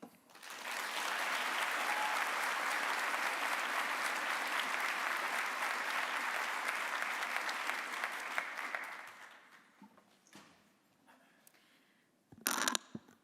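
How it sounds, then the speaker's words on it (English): An audience at a university staff assembly claps steadily in sustained applause for award recipients that fades out after several seconds, followed by a few scattered claps and rustling. "Please join me in another round of applause for all of our award recipients today."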